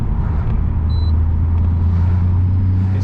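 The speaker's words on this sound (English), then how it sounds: "Traffic's busy this morning." Dense road traffic on a busy morning, cars rolling past in a constant close rumble with a deep engine hum building near the end, no voices.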